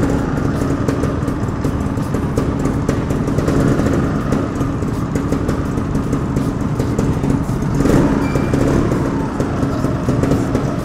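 A KTM 450 motorcycle engine runs loud and close throughout, holding a steady rough idle with a stronger rev surge near the end.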